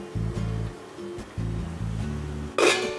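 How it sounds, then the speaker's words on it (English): Heavily salted water for linguine boils in a pot with a low, rumbling bubbling that surges and pauses in bursts, close by, ending in a short bright hiss. "I've got salted boiling water"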